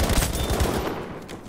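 A quick volley of loud, close gunshots in Battlefield V, several sharp cracks in the first second that trail off into fading reverberation.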